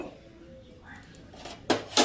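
Cauliflower dropped into hot oil in a kadai while cooking posto with peas and potatoes, giving two sharp sizzling bursts near the end after a quiet stretch.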